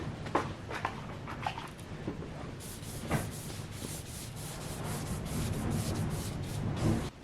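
Colour is rubbed by hand onto paper for mark-making, making a steady dry scrubbing and rasping texture with a few brief louder strokes, close by and continuous with no speech.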